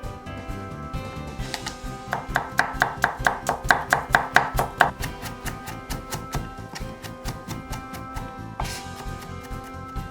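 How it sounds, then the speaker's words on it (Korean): Knife coarsely chopping eight garlic cloves on a board, a quick run of about two dozen sharp, evenly spaced taps that build in loudness, then scattered fainter chops close by, with no speech. "마늘 8개는 굵게 다져준다"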